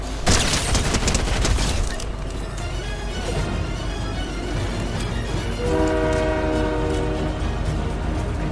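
A train horn sounds in Fortnite, a loud sustained chord-like blast rising over heavy rumbling and booming rail noise after a harsh, loud start.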